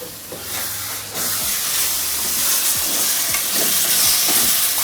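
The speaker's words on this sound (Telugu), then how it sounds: "కూర మగ్గుతా ఉంది కదా, చూసుకుంటాను." Dry eel fish curry simmering and frying in a pan, a steady loud sizzle with hissing steam and occasional stirring scrapes, heard alone without talk.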